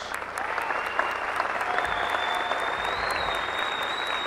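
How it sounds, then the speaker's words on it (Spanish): Studio audience at a live Colombian comedy talk show applauds loudly, a continuous dense wash of clapping throughout, with a few whistles rising above it. "fuerte el aplauso para ustedes, bienvenidos"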